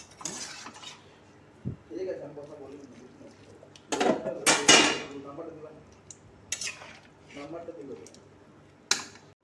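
A metal pot lid is set onto a pot of chicken and potatoes boiling for a dhaba-style curry, giving several sharp clanks and clinks of cookware spaced out among quieter kitchen noise.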